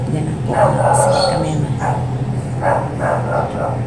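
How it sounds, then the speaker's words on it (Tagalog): A dog barks and yips repeatedly in the background while a person keeps talking over it, the barks sharp and fairly close. "pasensya na at lumakas yung ingay ng aso."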